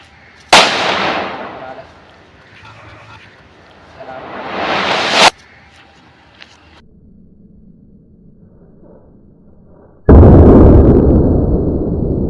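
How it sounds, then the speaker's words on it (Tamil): Kuruvi firecrackers set off for Diwali: two sharp, loud bangs several seconds apart, each ringing briefly, then after a quiet pause a louder, sustained burst of roaring noise. "இப்போ வந்து குருவி வெடிக்கலாம் வாங்க"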